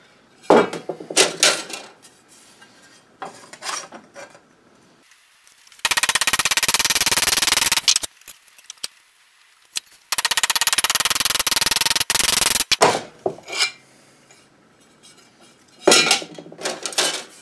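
A copper-faced hammer folds sheet metal held in a bench vise while bicycle wall-storage brackets are made: clustered metallic strikes and clanks, broken by two long, harsh, steady noisy stretches, loud and close.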